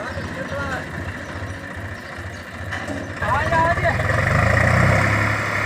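A tractor engine idles with a low, steady mechanical chug that grows louder partway through, running under continuous close talk from several people.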